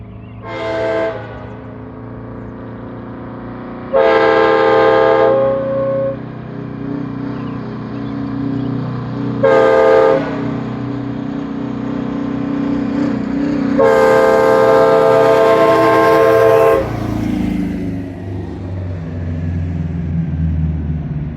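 An Airchime K5LA train horn fitted to a 1973 GMC Astro cabover semi truck with an 8V71 engine sounds in four loud, chordal blasts of varying length during a drive-by, over steady engine rumble that fades at the end.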